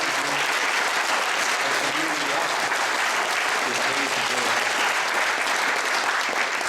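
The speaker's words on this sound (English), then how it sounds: "Can we give a big round of applause to" An audience at the Oxnard Conference breaks into sustained applause after a speech, a dense, even wash of clapping that holds steady throughout with faint crowd murmur beneath.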